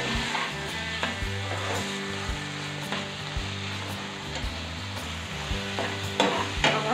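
Bottle gourd bharta is stirred with coriander in a pan, producing repeated scraping strokes and soft sizzling under a steady low hum, close and continuous with no speech.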